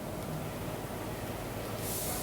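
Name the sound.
flanger effect on bass guitar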